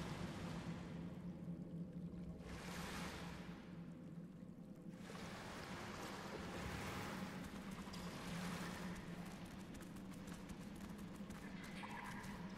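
A video game waterfall gives off a steady rushing, pouring roar of falling water that swells and dips a little over time, with no voices.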